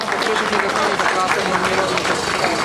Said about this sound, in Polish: Miejsce trzecie, wielkie brawa!